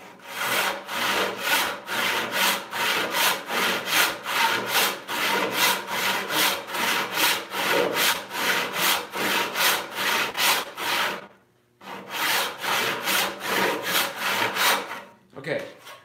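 Hand saw resawing an 8-inch-wide walnut board, with steady rhythmic push-pull strokes close up and loud, pausing briefly near the end before the strokes resume.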